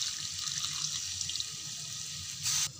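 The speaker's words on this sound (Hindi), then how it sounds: "तो इसके अंदर हम 1/2 कप जो है पानी भी ऐड कर देंगे" Half a cup of water poured into marinated chicken with oil while making Hyderabadi chicken fry, a steady close splashing and running wash of liquid with a brief louder surge near the end.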